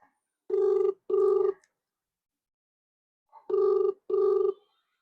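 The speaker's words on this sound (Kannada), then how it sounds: "ನೋಡೋಣ, ಕಾಲಿಂಗ್ ಮಾಡೇ ಬಿಡೋಣ, ದೇವ್ರ ಮೇಲೆ ಭಾರ ಹಾಕಿ." Phone ringing on an outgoing call: two double-burst rings separated by a long pause, loud and clear with no talk.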